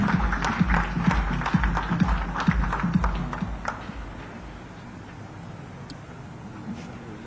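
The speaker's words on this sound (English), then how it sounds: "A big round of applause for him." An audience at a live corporate event in Sriperumbudur applauding, dense clapping loud at first and fading out after a few seconds into quiet room noise.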